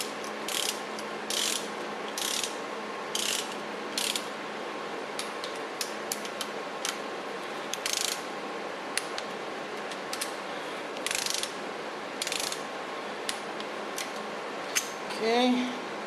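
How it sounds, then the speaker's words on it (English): A ratchet torque wrench clicks in short bursts while tightening the main bearing caps on a 440 MOPAR big block engine in a workshop, with repeated close ratcheting runs separated by pauses over a steady background hum. "now I can torque these down to 60 foot-pounds in"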